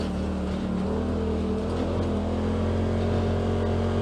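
A 2018 Polaris Turbo RZR fitted with an Aftermarket Assassins S2 clutch kit runs its engine in a steady, loud, close drone that holds a fairly even pitch throughout, with no voices.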